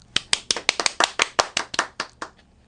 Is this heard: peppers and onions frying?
no